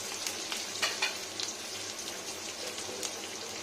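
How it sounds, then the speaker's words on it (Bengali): Onions fry in butter in an iron wok, a close, dense sizzle with crackling pops and bursts of stirring throughout. "এবার দেখুন এটা হচ্ছে পেঁয়াজ, পেঁয়াজটা দিয়ে নিলাম।"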